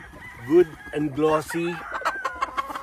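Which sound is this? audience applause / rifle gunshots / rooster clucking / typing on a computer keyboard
rooster clucking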